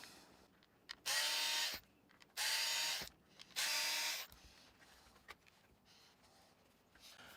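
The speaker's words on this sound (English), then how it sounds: "I'm not going to sit here and bore you with taking all these 4 screws out" A power driver whirs in three short, loud, close bursts as screws come out of a cheap Dollar Tree six-inch bar clamp, with quiet handling and clicks between bursts.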